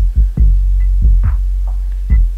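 Deep bass pulses from a Xaoc Devices modular synthesizer, the lows alone: about five heavy thumping throbs at an irregular pace over a sustained low hum, close and loud.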